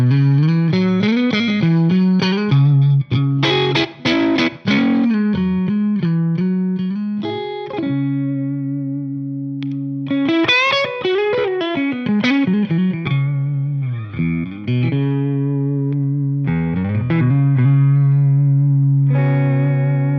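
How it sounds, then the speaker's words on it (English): A James Tyler electric guitar plays clean, bright single-coil tones from a split neck humbucker: quick runs, then sustained ringing chords and bends, loud and close with no voices. "that last sound is just the neck pickup in split mode, so it's a true single coil."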